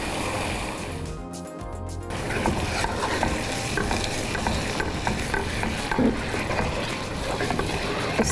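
A spoon stirs yogurt into an egg curry with black peppercorns in a pan, scraping and churning steadily and close up, with a brief lull early on before the busy stirring resumes; low sizzling sits underneath.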